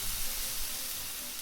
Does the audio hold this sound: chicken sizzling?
yes